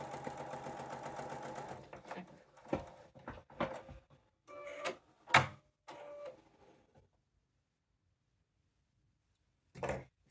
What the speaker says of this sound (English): So I'm going to start sewing at that corner.